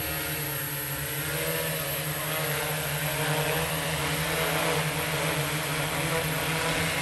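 A multirotor drone with an Xaircraft SuperX flight controller hovers nearby, giving a steady, loud buzzing whine of propellers that holds constant without talk.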